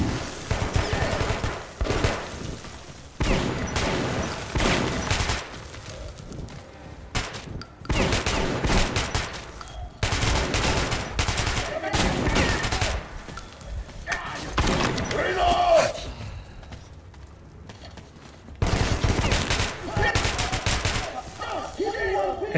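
Repeated gunfire from a weapon in Metro 2033, heavy bursts and single shots recurring across the span with loud broadband blasts, some brief quieter gaps between volleys, with a voice talking at times.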